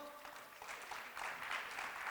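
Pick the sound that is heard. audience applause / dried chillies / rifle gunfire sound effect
audience applause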